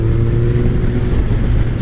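Engine of a 2003 Kawasaki ZR7S motorcycle held at steady high revs, a loud, continuous close drone with a strong low hum and no voices.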